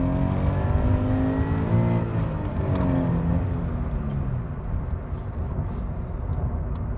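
A Toyota 86 pulls hard under acceleration while being driven, its engine note rising steadily and loud from inside the car, with a continuous drone that carries through the whole stretch.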